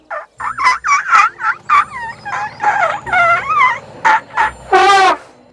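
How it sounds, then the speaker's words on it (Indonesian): An elephant trumpets through its trunk in a rapid series of about a dozen shrill, squealing blasts of changing pitch, loud and close, ending with a longer, stronger trumpet. "Suara trompet melengking adalah yang paling klasik."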